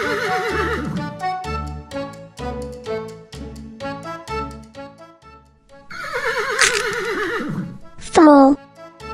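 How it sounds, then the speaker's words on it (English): A horse neighs in two long, wavering whinnies over a bouncy music track, loud and up close. "Horse."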